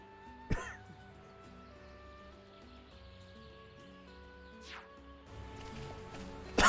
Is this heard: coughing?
yes